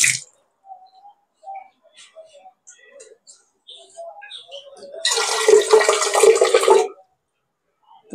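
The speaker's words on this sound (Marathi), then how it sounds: "आता आपल्याला त्याच्यामध्ये अजून थोडंसं पाणी ऍड करायचंय" Water is poured into a kurdai wheat-starch mixture in a single loud, splashing burst lasting about two seconds, preceded by scattered faint kitchen clinks and quiet moments.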